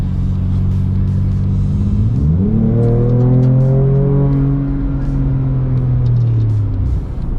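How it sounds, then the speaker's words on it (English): A 2022 Ford Ranger Raptor pickup truck accelerates hard, its engine rising in pitch through the gears with a loud, close, continuous roar. "If I blindfolded you, put you in the passenger seat, and started accelerating like that, you wouldn't think that you're in a pickup."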